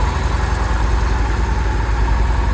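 A Victory Cross Roads V-twin motorcycle, 779 miles on it, idles steadily with a deep, even low rumble and a fairly quiet exhaust, close by and with no talk over it.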